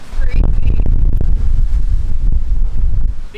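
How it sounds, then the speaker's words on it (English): Strong wind gusting outdoors during rainy weather beside a van being built out, a steady, loud roaring rumble buffeting the microphone throughout. "So windy."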